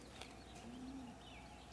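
A single soft, low pigeon-like coo in Everybody's Gone To The Rapture, faint and brief over a quiet ambient background with no voices.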